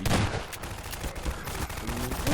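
Gunfire from weapons shooting zombies in the video game Half-Life 2 Episode 2, a dense burst of rapid shots running continuously and loud from start to finish.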